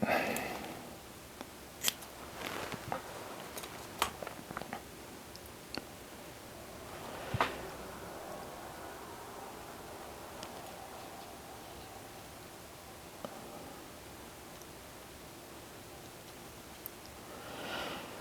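Scissors snip squirrel tail hair on a trout fly, a few quiet clicks and cuts near the start, then faint handling noise over a low background.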